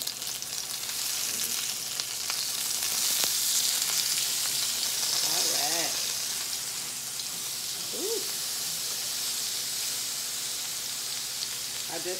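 Salmon sears in a hot pan with a steady, close hiss and crackle of frying oil, joined by a few faint brief voice sounds in the background.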